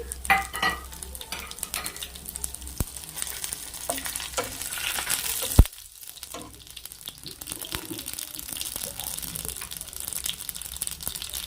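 Chana dal, urad dal, mustard seeds, cumin and dried red chillies fry in hot oil for a Chikkudu ginjala masala curry, a steady close sizzle with crackling pops and utensil clinks, briefly broken by a sharp knock and quieter moment.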